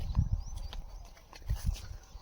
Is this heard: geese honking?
no